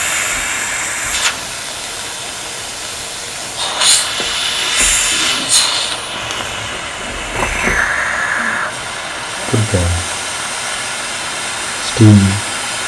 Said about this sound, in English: let the steam come out of the nozzle